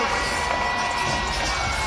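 A Detroit crowd at a live fight roars and cheers steadily and loudly, a dense wall of shouting voices that never lets up, with scattered whoops rising out of the din.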